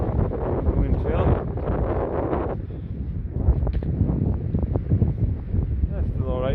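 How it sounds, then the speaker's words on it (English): Cold wind gusts steadily across the microphone in Harwood Forest, Northumberland, near freezing, giving a continuous rough buffeting roar with rustling texture throughout. "when that wind hits your face, it's like ice"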